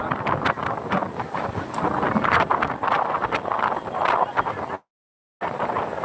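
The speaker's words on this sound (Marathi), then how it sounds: "जोरदार वारा सुटलेला आहे पंढरपूर क्षेत्रामध्ये" Strong wind at the Pandharpur pilgrimage site, gusting steadily and loudly into the microphone as broadband rumbling buffeting, with a brief dropout of silence near the end.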